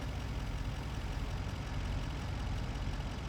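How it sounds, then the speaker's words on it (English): A truck engine in Farming Simulator 25 runs at a steady low rumble, a constant droning idle with no gaps and no voices. "Back on the truck."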